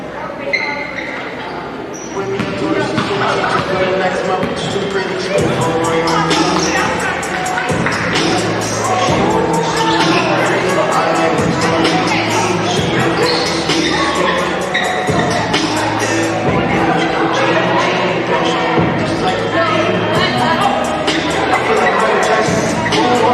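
A loud crowd in a high school gym at a basketball game applauds and cheers for graduating seniors, with continuous roaring, clapping and whoops filling the space, and voices mixed throughout.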